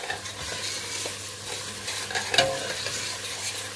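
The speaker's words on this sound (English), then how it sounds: "Just going to add that in. Give it a stir." Fenugreek herbs frying in a pan for a cauliflower and potato curry, a continuous close sizzle with soft stirring scrapes and one brief clink of utensil on metal.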